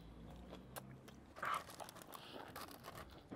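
Crunchy chicken nuggets bitten and chewed close up at a burger restaurant, a few soft crunches with one louder bite in the middle, quiet and intimate with no talking.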